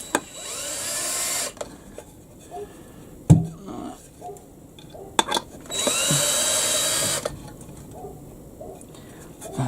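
Cordless drill driving screws into beams on a model railway layout with its battery running low, giving two long whirring runs separated by quieter gaps, clicks and handling knocks, all close by.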